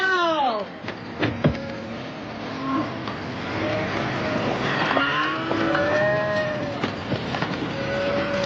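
Cattle herd lowing repeatedly during a river crossing in a western, several overlapping moos near and far over a steady background of splashing and movement.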